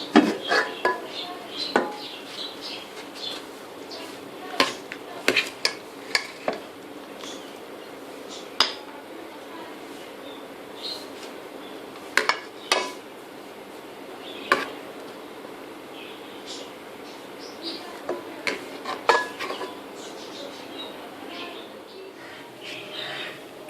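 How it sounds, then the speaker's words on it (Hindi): Taro and meat curry (arvi gosht) being served from a cooking pot into a dish, with scattered metallic clinks and scrapes of a spoon against the pot at irregular intervals. "तो अभी हम डिश में निकाल लेते हैं,"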